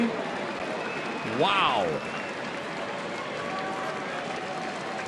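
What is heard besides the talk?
baseball crowd cheering and applauding a home run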